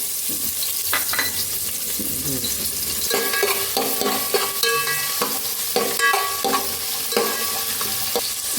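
Finely chopped onion sizzles and fries in hot oil in a pan for vada pav filling, a loud continuous crackle with repeated scraping of a stirring spoon throughout, close up and without speech.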